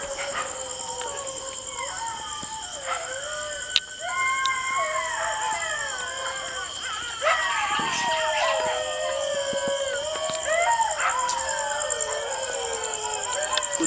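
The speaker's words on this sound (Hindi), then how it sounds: "कुत्ते भी भौंकने लगे हैं, शायद हमें देख के भौंक रहे हैं।" Dogs barking at night near an old village well, several sharp barks at moderate distance over a steady whine of night insects and chirping night birds.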